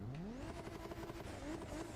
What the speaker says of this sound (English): Let's listen to its engine in this echoey area.